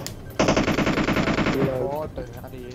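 Video game gunfire from an M60 machine gun, a loud rapid automatic burst lasting over a second that trails off, followed by brief in-game sounds, with no talking.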